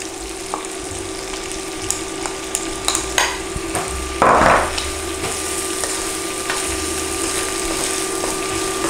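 Onions frying in rendered bacon fat give a steady, moderate sizzle throughout, with a louder crackling burst partway through and a few faint clicks of a utensil. No one speaks.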